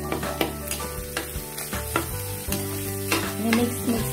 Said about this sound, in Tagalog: nagsatay na ako ng sibuyas at saka bawang, tapos giniling na beef